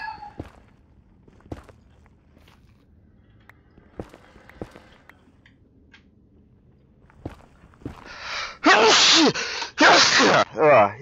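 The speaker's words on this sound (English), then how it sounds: "I knew I was gonna sneeze." A sudden loud sneeze bursts out near the end, preceded by a sharp intake of breath, after several seconds of quiet footsteps and small shuffling sounds.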